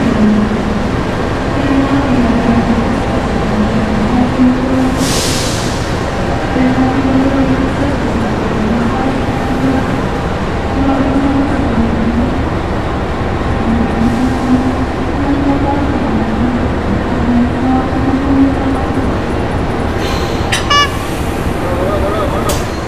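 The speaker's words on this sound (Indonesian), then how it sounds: "seperti KA Ketel ini yang memiliki relasi dari stasiun Maos menuju ke stasiun Larangan Tegal" A KA Ketel tanker freight train in Indonesia rolls past steadily with a continuous rumble and wheel noise, plus a faint horn toot near the end, while a person speaks over it.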